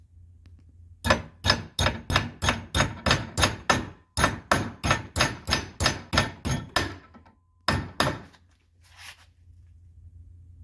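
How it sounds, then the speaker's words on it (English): Rapid, steady hammer blows on metal, working on a Honda XR70R dirt bike brake, ring out close by in two long runs, with a short pause between and a few final strikes. "let me do a little hammering, see what I can do"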